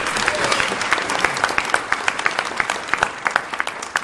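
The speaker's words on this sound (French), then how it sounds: "On peut les applaudir aussi." A church congregation at an evangelical church's fortieth anniversary celebration claps together, the applause turning into sharper, rhythmic individual claps that stand out near the end.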